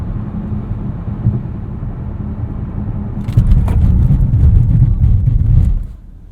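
A 2020 Alpina B7 xDrive slows hard in a brake test on a chilly road, its steady low road and engine rumble swelling louder with tyre and chassis noise before dropping away near the end.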